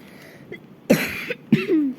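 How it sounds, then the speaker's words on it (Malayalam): Two or three sharp coughs close by, the last one ending in a short rasping throat sound, with quiet gaps between them. "ചുമയാണ്."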